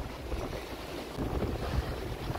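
Steady wind buffets the microphone over the wash of waves on the Red Sea during a storm aboard a sailboat, a continuous roar with no voices.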